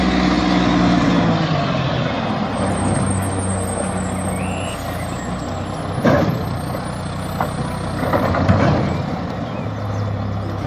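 A garbage truck rumbles nearby with a steady engine drone and a couple of sharp air-brake hisses, amid street traffic noise.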